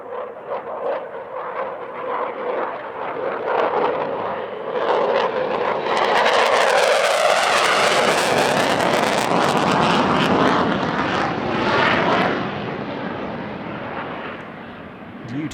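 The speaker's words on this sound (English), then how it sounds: "the oldest tranche of Typhoons in the Royal Air Force" A Tranche 1 Eurofighter Typhoon jet roars past at the Radom airshow, its loud engine noise swelling to a broad peak mid-pass and then fading as it moves away.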